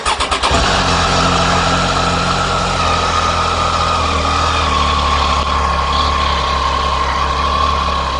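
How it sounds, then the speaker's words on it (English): A Triumph Tiger motorcycle engine cranks briefly and fires up. It then settles into a loud, close, steady idle that runs on unbroken. "And this is it starting."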